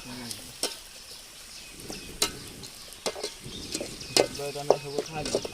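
Chopped tomato cooks over an open wood fire outdoors for oyster biryani, sizzling steadily under repeated scraping stirs and clinks of a spatula against the pot; faint animal calls sound in the background, and no one talks.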